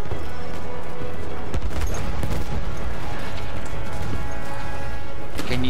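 A grenade blast and heavy gunfire in the World War I shooter Battlefield 1 make a loud, continuous din of shots, crashes and booms, with a sharp impact near the start and more bangs at the end.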